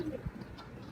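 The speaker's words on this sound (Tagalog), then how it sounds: "lumilipad ng mga kalapati doon" Pigeons coo faintly outdoors, with a single low soft coo and a few murmuring calls against quiet background ambience. No voices are heard.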